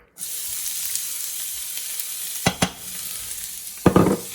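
Onions drop into about a tablespoon of hot oil in a hot pan and sizzle steadily and loudly, with a couple of sharp clattering knocks midway and near the end as they are stirred.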